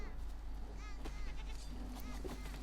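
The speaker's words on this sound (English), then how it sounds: "you want to equip your knife and you want to kill this goat" A goat bleats a few times in Metal Gear Solid Delta, short wavering cries over a steady low game ambience with faint footsteps.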